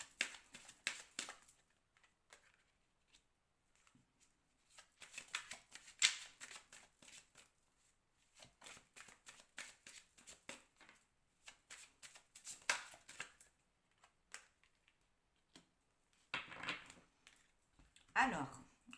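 Tarot cards are shuffled and laid out on a surface in bursts of soft riffling and flicking, quiet and close, with pauses and brief handling sounds in between.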